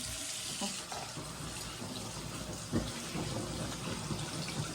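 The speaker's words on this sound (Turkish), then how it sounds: "Şimdi yıka ellerimizi." Tap water runs in a sink while children's hands are washed, a steady, close, hissing stream with light splashes and a brief louder splash partway through, and no clear speech.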